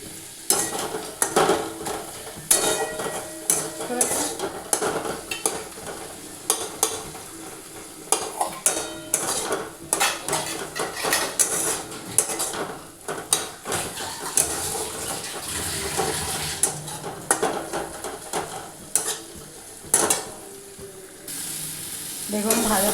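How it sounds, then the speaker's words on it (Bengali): Vegetables stir-fried with turmeric, salt and Kashmiri chilli powder in a pan: steady sizzling broken by frequent clattering scrapes of a spatula against metal, close and loud, with brief talk in the background. "এবারে সবগুলো মিশিয়ে ভালো করে ভাজবো।"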